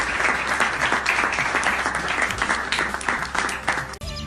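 Loud, sustained applause from an audience at a Gujarati literary evening in Dharampur, many hands clapping close together in a dense wash before cutting off abruptly near the end.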